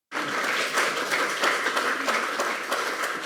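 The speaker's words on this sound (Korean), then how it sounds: "예, 박수 치셔도 됩니다." Dense audience applause fills a lecture hall during a talk on disease prevention policy, with steady, sustained clapping from many hands for the full stretch and no voices.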